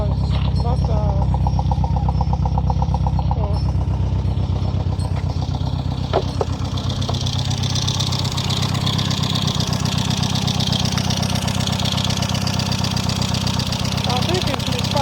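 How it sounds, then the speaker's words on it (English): Exhaust of an engine with a misfire and a damaged head gasket chugs and rumbles steadily at idle, close and loud, with uneven knocking pulses and people talking over it throughout. "the sound is the exhaust that is making that noise"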